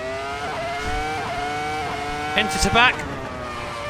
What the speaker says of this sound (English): we get to hit the V10 sing as we come towards the chicane down the bottom here